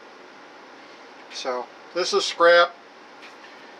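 A kitchen air conditioner whirs as a steady, faint hum beneath a person talking while meat is cut into chunks for grinding meatloaf.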